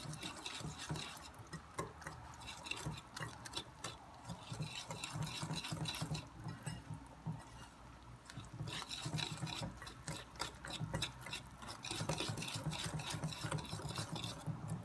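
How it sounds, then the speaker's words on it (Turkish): Batter being stirred by hand for banana bread, the wet mixture folded into the dry ingredients in a bowl: a steady, close run of soft wet scraping and squelching strokes, continuous and rhythmic, with no talking. "Sıvı karışımımızı katı karışımımızın içerisine döküyoruz. Ve karıştırıyoruz."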